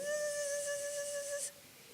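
A steady electronic tone from a skin-contact biofeedback device, signaling stress, holds a single pitch with a faint overtone, then cuts off abruptly after about a second and a half, leaving quiet hiss.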